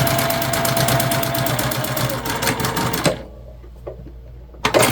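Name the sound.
sewing machine stitching a pencil pouch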